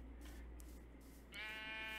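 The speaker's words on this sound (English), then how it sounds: "Sheep! Come here, sheepy." A single sheep bleats in the video game Minecraft, a short nasal cry coming in halfway through after a quiet stretch of faint background hum.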